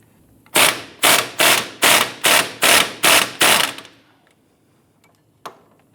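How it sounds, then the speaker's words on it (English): An 18mm wrench works loose the upper rear sway bar end link bolt on a 2008-2013 Nissan Rogue: eight loud, evenly spaced sharp metallic bursts close by, then a pause and one fainter click. "I want to go ahead and loosen the upper sway bar end link bolt. Use an 18mm wrench on the bolt side"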